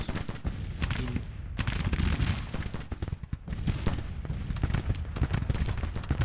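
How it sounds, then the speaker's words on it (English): Dense, continuous musket volleys crackle from Civil War infantry lines in Grand Tactician: The Civil War, a loud unbroken battle din of overlapping shots with no talk. "They are firing at the enemy, they are firing at the enemy"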